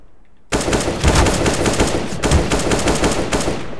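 Rapid automatic gunfire from the video game Counter-Strike bursts in loudly after a brief quiet moment and continues in dense rattling volleys, with no talking.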